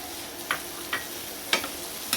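Carrots being stirred into vegetables in a pan, with four separate scraping strokes at a steady rhythm over a soft, low background hiss.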